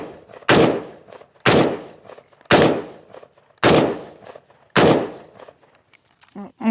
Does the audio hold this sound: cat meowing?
no